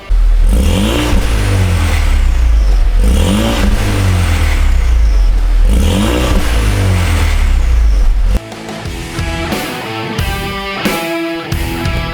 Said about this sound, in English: start the car, make you guys listen how it sounds on a cold start